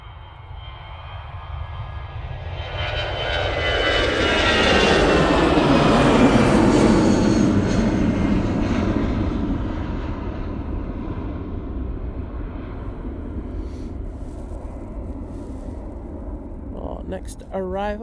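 An easyJet airliner rolls along runway 23 left at Manchester Airport on a frosty day, its jet engines swelling into a loud, broad roar around the middle and easing to a steady rumble as it moves off.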